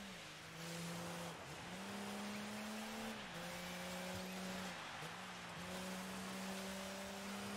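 A rally car engine in the racing video game DiRT 5 screams at high revs on track, climbing steadily and dipping with each gear change in a repeating pattern, loud and close.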